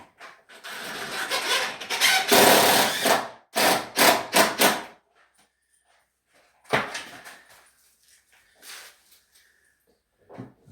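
Screws are driven to fix a wooden door stop in place: long gritty bursts of driving and scraping, then a pause and a few shorter sporadic bursts, close by.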